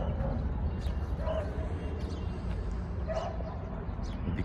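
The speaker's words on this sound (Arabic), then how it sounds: "دي كوفا هانم كلب ما شاء الله عليها عسل يعني، بس هي شقية شوية عشان صغيرة" A young female Cane Corso puppy lets out a few short, high yips and barks over a steady noisy background, with people talking nearby.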